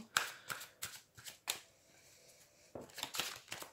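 Tarot cards being shuffled for a reading, a series of quick papery riffles and slaps in uneven bursts, close and fairly soft, with no talking.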